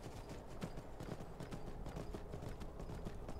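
Horse hooves clip-clopping in the video game Skyrim, a faint, fast and steady run of hoofbeats under low background ambience.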